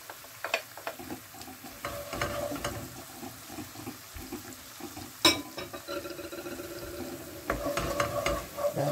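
Garlic and a bay leaf go into a pan of oil and sizzle quietly, with scattered stirring clicks and soft scraping of a utensil, plus one sharp clatter midway.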